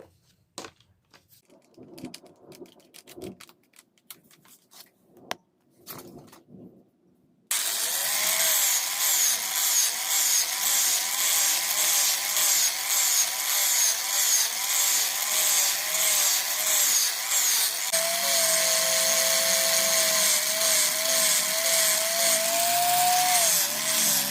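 After some scattered light knocks and taps, a motor-driven polishing wheel starts up and grinds steadily against the 7Cr17MoV steel blade of a gyuto chef knife, mirror-polishing it, loud, close and continuous.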